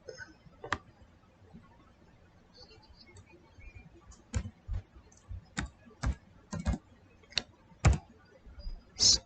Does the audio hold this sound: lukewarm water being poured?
no